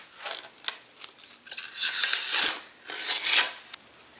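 Protective plastic film peeled off a graphics card, a run of crisp crinkling and tearing rustles with short bursts and pauses, close and alone.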